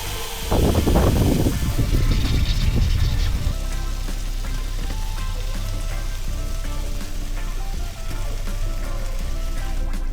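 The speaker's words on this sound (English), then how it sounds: "Now it's sizzling." Steady crackling sizzle of food frying in a hot pan, continuous and close, with a brief burst of clattering handling at the start.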